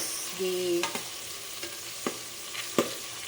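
Tomato cooking in a pan for a mung bean dish, a faint steady sizzle broken by a few sharp clicks of a utensil against the pan, close and quiet, with a brief voice at the start.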